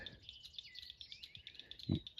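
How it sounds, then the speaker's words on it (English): Red-winged blackbirds call by a cattail pond in a cattle pasture, a string of faint high chirps and trills repeating over quiet background, with one brief low thump near the end. "We got a really healthy population of red-winged blackbirds hanging around here."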